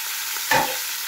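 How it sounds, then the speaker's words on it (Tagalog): Talakitok fish fries in a little oil, a steady close sizzle with one brief louder crackle and clink partway through. "Prito ko muna po itong aking isda para tanggal talaga ang kanyang lansa"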